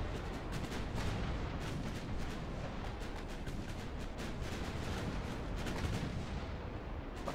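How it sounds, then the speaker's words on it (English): Dense, rumbling naval gunfire from the Ultimate Admiral Dreadnoughts game, with repeated booming shots and blasts overlapping in quick irregular bursts over a constant low roar. "That's a lot of shots that have just missed there."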